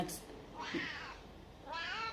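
Cooper, a pet house cat, gives two drawn-out meows, close and fairly quiet, with a brief human sound in between.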